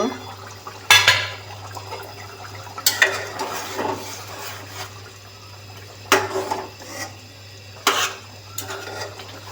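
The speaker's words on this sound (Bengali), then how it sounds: "ঢাকনা খুলে আরেকবার নাড়া দিয়ে দিব।" A spoon stirs beef in a new pot, giving several sharp metallic clinks and scrapes against the pot over a steady low hum, with soft liquid movement between the knocks.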